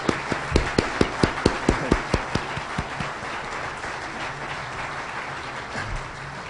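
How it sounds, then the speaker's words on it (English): An audience at a Strategic Air Command symposium applauds Linebacker II veterans. Strong rhythmic claps are heard early on, then fade into a steady wash of applause from the crowd. "I ask that we give them a round of applause."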